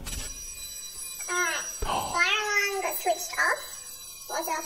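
A fire alarm rings with a steady high-pitched tone that runs under several people talking over it.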